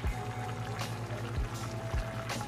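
Cooking water being poured off a pot of simmered bullet tuna, a short run of liquid splashing and trickling with faint knocks against the pot.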